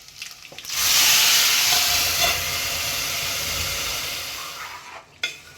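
A tempering of spices is poured into hot oil for gongura curry and bursts into a loud, hissing sizzle. The sizzle holds strong for several seconds, then fades slightly before a sharp clink near the end.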